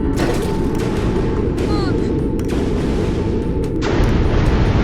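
A burning shuttle explodes in a sci-fi space-station scene, heard as a loud, sustained booming roar with rumbling blasts. A faint tone and whistling sweeps sit over it, and a further burst swells near the end.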